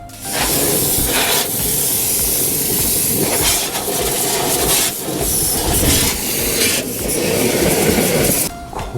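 A Kärcher pressure washer blasts a car's underbody with a loud, steady broadband hiss of spraying water, close up and continuous with brief dips.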